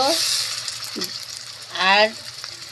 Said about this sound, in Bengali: মশলাটা সুন্দর করে ভাজা ভাজা করে নেব